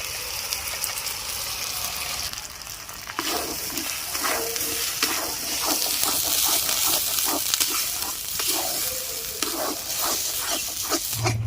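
Ground green pea paste fries in a wok, with a steady close sizzle and hiss broken by repeated scraping and stirring strokes, and no voices.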